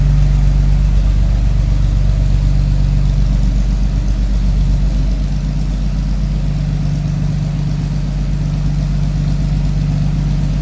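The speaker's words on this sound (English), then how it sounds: "You like to hear that exhaust on the lower idle?" A 1955 Chevrolet 3100 first-series pickup's deep, rumbling exhaust idles steadily and loudly up close, a low throbbing burble with a slight dip partway through.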